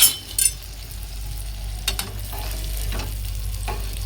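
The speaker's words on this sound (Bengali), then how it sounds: "একটু নাড়াচাড়া করে নেব।" Okra frying in a pan being stirred, a steady close sizzle with a few sharp scrapes and clinks of the spoon against the pan, no talking.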